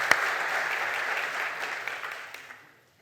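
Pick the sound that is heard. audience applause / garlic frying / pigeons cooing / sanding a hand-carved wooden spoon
audience applause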